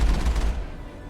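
Loud burst of rapid gunfire in the video game Mass Effect, a dense fusillade of shots that fades into a rumbling tail.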